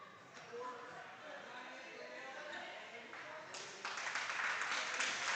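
Crowd applause at a high school volleyball game between Wes-Del and Randolph Southern, honoring seniors, a broad steady wash of clapping that swells louder toward the end, with faint voices mixed in.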